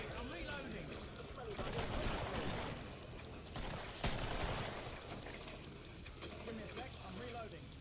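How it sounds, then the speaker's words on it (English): Hand cannon gunfire in the Killing Floor video game cracks in dense repeated shots over a continuous din of game action, with players talking throughout. "Oh, this hand cannon."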